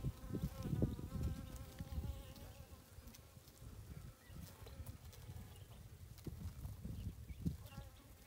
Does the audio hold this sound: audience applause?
no